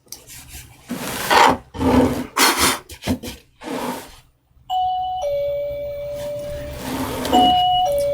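An electronic doorbell chime rings out in a few clear sustained tones after a stretch of scraping and rubbing noises from wood being worked by hand.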